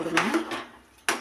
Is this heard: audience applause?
no